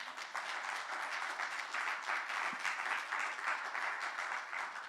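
A church congregation claps steadily for the Lord, an even wash of applause heard from some distance and fairly quiet, with no voices standing out.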